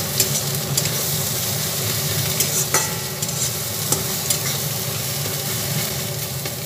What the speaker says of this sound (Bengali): বেশ 3-4 মিনিট ধরে ভালোভাবে ভেজে নিচ্ছি